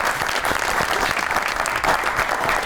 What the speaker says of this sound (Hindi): ताली होनी चाहिए हज़रत साहब के लिए।